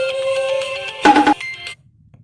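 A mobile phone rings with an incoming call, a bright electronic ringtone melody playing close and clear for about a second and a half before cutting off into near silence.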